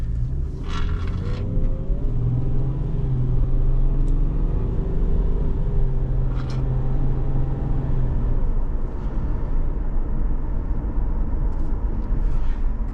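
A 2012 Subaru Outback 3.6R with a 256-horsepower flat-six and five-speed automatic drives on the road, its engine droning and rising in pitch over loud, steady road rumble heard from inside the cabin.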